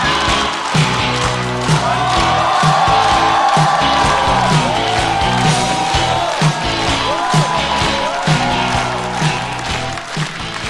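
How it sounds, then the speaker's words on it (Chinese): A stand-up comedy show audience applauds and cheers as a comedian walks on stage, dense, loud clapping from a large crowd with whoops and music underneath. "让我们掌声欢迎瑞瑞"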